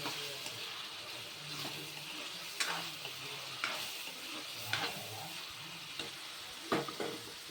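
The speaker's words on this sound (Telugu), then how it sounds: "ఇప్పుడు ఇది 5 మినిట్స్ వేయించుకున్న తర్వాత ఇందులోకి మనం టమాటా వేసుకోవాలన్నమాట. దీన్ని బాగా మనం వేయించుకోవాలన్నమాట." Tomatoes frying in a pan hiss with a steady sizzle, broken by regular scraping knocks of a stirring spoon, close and without talk.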